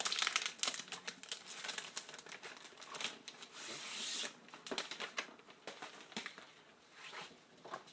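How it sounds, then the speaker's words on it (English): Transfer scissors cutting Chalk Couture transfer layers along the cut line, heard as close, irregular crinkly snips and rustling of the sheet, with a longer scraping stretch midway. "we're going to cut our layers on the cut line"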